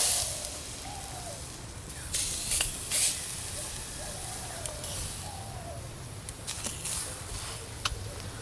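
Brinjal slices frying in a dry pan without oil give a steady soft hiss and crackle, with a few sharp clicks and brief faint sounds over the continuous sizzle.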